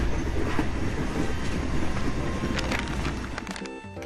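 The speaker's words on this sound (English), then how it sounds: "Families look out their windows as the wheels go clickety-clack." A train rolls along its track with a dense rumbling rattle and rhythmic wheel clacks, loud and close, easing off near the end as faint squeals and ringing tones come in.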